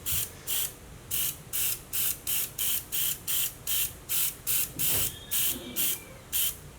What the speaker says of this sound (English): I'm going to spray it on from a distance.